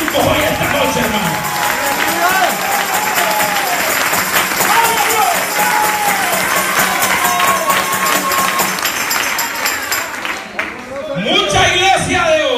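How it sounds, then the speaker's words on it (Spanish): A church congregation applauds and cheers loudly at an evening service, dense clapping mixed with shouts and voices throughout, briefly dipping before swelling again near the end. "Yo voy a aplaudir por algunos que vinieron mancos hoy esta noche"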